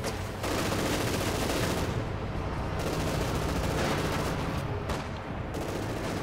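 Rapid bursts of tank and infantry gunfire from Company of Heroes 2 as a Panzer duels a damaged Su-85 near a church, with dense overlapping volleys and explosions, loud and continuous with brief dips.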